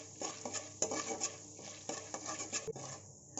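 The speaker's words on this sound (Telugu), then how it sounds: "పుట్నాల పప్పు ఇంకా పల్లీలు వేస్తే చాలా బాగుంటుంది. ఇలా కలుపుకుంటూ ఫ్రై చేసుకోవాలి." A spoon scrapes and stirs roasted gram and peanuts frying in oil in a pan for spicy puffed-rice chivda, with quick metallic clinks and light sizzling in a close, uneven rhythm.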